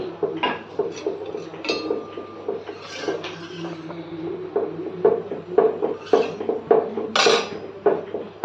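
Pans and utensils clatter in a home kitchen while roti is fried, with irregular clanks and scrapes close by over a low steady background hum.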